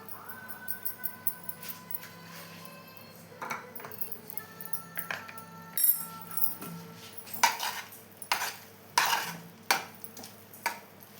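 Rava kesari being stirred with ghee in a pan, a spoon scraping and clinking against the metal in a steady run of light taps and scrapes that get louder and denser toward the end.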